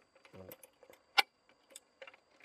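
Keys jingle and click in the ignition of an excavator, a few faint light taps and one sharper metallic jangle in a quiet cab.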